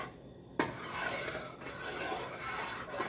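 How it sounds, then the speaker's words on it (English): Peanut butter fudge being stirred in a pan, with a steady rasping scrape of a spoon working through thick mixture along the bottom and corners, continuous and close, with no talking. "when you're stirring, get all the corners down here in the bottom of the pan, and just do the figure 8 motion constantly"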